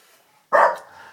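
One sharp, close dog bark breaks a quiet room, a single loud yelp-like burst that trails off quickly.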